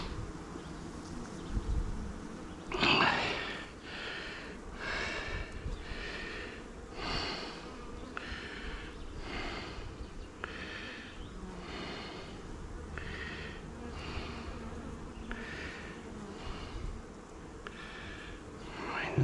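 Honeybees drone steadily around an open horizontal beehive, a soft close hum with repeated swelling pulses of buzzing as insects pass near.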